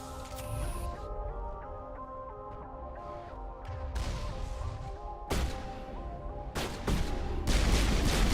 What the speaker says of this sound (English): Oh no, there's hostile turrets.